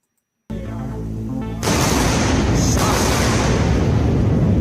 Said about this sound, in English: Double sonic booms.